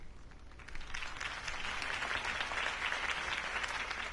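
Steady applause from a crowd after a speech swells after a brief quiet start and continues at a full, even level.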